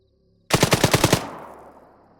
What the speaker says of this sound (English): Oh shit, nope, that's almost firing at us.